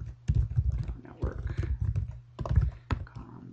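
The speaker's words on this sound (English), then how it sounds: "I'll just type it in." Close, quick typing on a computer keyboard as a web address is entered, irregular bursts of key clacks with brief pauses between them, with some low background rumble throughout.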